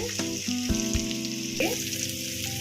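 Chopped vegetables sizzle steadily in a hot pan for vegetable upma while being stirred, with a constant close frying hiss and occasional scrape of the spoon.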